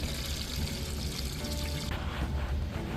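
Water pours steadily into a container or tank for breaking in a Hangkai 6 hp four-stroke outboard motor, a continuous, close splashing rush that shifts in tone partway through.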